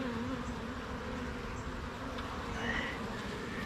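Steady low insect buzzing fills the air continuously, a dense hum of many honey bees close by at an open hive, with faint higher whines drifting over it.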